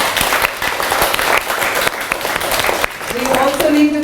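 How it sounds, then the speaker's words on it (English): Audience applauding Jackie Brown at a children's museum holiday book event, a sustained dense round of clapping that runs steadily throughout and sounds fairly close and loud. "you need to turn around and give a big round of applause once again to Jackie Brown"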